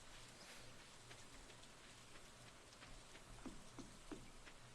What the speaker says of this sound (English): I do like the rain sound.